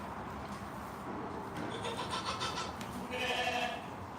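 Young Boer goat kids bleat on a farm in short, fairly faint calls over a rustling background, with a louder cry late in the clip.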